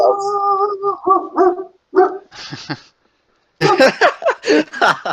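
A pet dog barks and yips indoors in several short bursts, with a brief pause and then a rapid cluster of louder barks; no talk over it.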